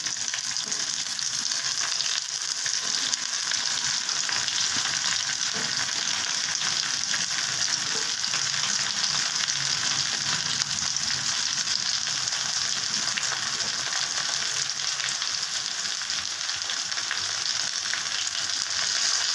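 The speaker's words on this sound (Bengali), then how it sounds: "আলুটা একটু ভাজা ভাজা হয়েছে, এবার আমি দিয়ে দিচ্ছি পটলগুলো" Potatoes and pointed gourd fry in oil in a pan with a loud, continuous sizzle that stays dense and even throughout, with no voices over it.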